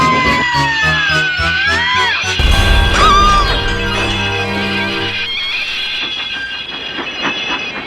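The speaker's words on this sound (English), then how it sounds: "Thomas could not stop his heavy train from pulling him downhill towards these points." A heavy model-railway-style engine and train rolling downhill on rails toward a set of points, with loud continuous rumbling, wheel squeals and clattering, a brief crash-like burst midway, then steady rolling noise to the end.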